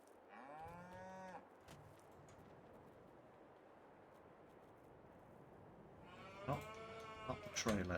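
In Farming Simulator 22, set on an Upper Mississippi River Valley farm, cows moo loudly at the start, then a quiet stretch follows, and another drawn-out moo rises near the end.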